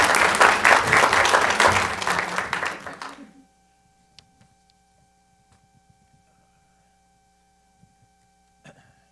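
Applause from an audience at a city council meeting rolls strongly for about three seconds, then fades away, leaving a quiet room with faint hum and a few scattered knocks.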